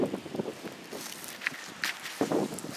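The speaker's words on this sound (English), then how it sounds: "Well, it's windy as hell." Strong wind gusting outdoors, buffeting close against the microphone in uneven, rushing bursts with brief louder peaks, steady throughout with no speech.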